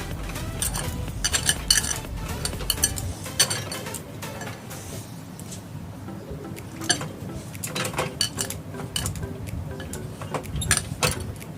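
Flour dough being worked by hand with a little water for chicken labanga latika, heard as soft squelching and scraping with clinking of a bowl or utensils, close and steady, with no talk.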